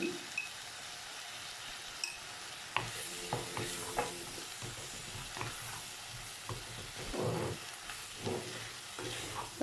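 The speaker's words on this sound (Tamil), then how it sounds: "காய் வதங்கிக்கிட்டு இருக்கு." Green beans sautéing in a pan for a poriyal, with a steady low sizzle and frying hiss plus repeated scraping stirs that clack against the pan, fairly close and moderate in level, no talking.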